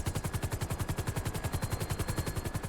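Rapid, continuous automatic gunfire in a video game, with an even, fast rhythm, loud and close, sustained without pause.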